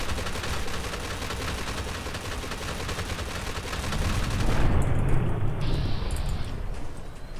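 Two shot plasma infused minigun firing in Fallout 4, a dense continuous stream of rapid shots with a roaring fusillade that stays loud throughout and swells near the end.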